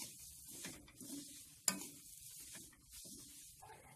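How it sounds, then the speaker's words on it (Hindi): Vermicelli is stirred through ghee in a pan, a soft, close scraping and faint sizzle repeating in a loose rhythm, with one sharp click of the spoon against the pan. "अब हम इसमें सिमैया डाल देंगे और घी और सिमैया को अच्छी तरह से मिक्स कर लेंगे।"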